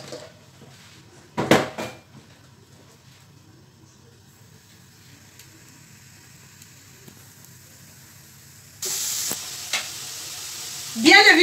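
Onions and smoked lardons fry in a pan for a quiche, with a soft sizzle broken by a loud clatter of the pan early on and then a stronger, louder sizzle when more goes in near the end.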